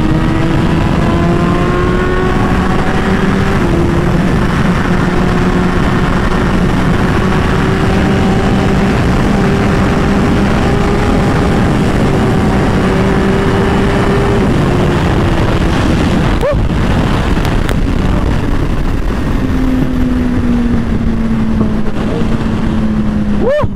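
A 1000cc motorcycle engine drones steadily while riding through a corner, its pitch rising and falling with throttle, loud and close against wind rush, dipping briefly near the end before climbing again.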